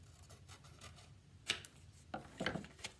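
Scissors trim a sheet of paper to fit inside a CD case: a few quiet, close snips and rustles over a faint background, with two or three crisp cuts standing out.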